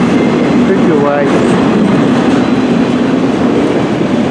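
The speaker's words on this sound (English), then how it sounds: "Yep, CN M384 northbound train, I can tell." Northbound CN M384 freight train rolling past at close range, a steady loud rumble with faint rail clatter and a brief wheel squeal early on, while people talk over it.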